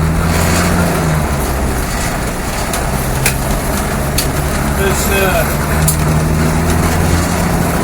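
A Land Rover Defender with a 2.5 naturally aspirated diesel engine on a test drive, a steady low cabin drone with rattles and bumps from a rough road, someone talking briefly over it.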